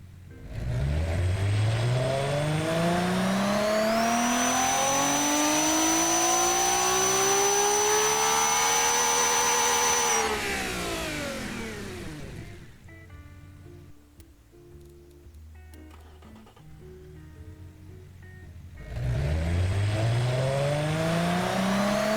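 Simulated 2000 horsepower engine on a dyno in the Automation car game, sweeping loudly from low rumble to a screaming high rev, falling to a lumpy idle, then surging into a second pull.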